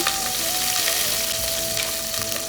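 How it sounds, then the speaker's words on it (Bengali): Chopped onion dropped into hot oil sizzles loudly and continuously, close and dense, with a faint steady tone running underneath. "এখানে দিয়ে দিচ্ছি কিছুটা পরিমাণ তেল পেঁয়াজ কুচি"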